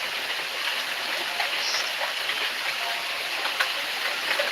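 Rain falling outside as a steady, even hiss with occasional faint drips and patters, distant and continuous without talk.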